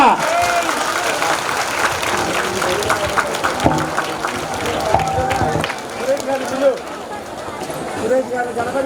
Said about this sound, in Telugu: మరొక్కసారి గట్టిగా కొట్టాలి చప్పట్లు. విజిల్స్.